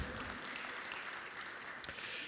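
A wash of applause from a large conference audience, even and sustained, heard somewhat distant and soft, with no clear speech.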